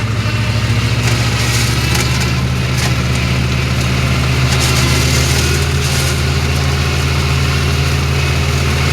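A Swaraj 744 tractor engine idles steadily with a low, constant chugging rumble, loud and close, running without a break and with no voices.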